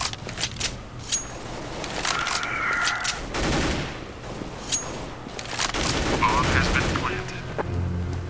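Grenade blast amid rapid gunfire in Counter-Strike Global Offensive, a loud boom about midway through surrounded by bursts of automatic weapon fire and clinking shell casings, with some voices over the action.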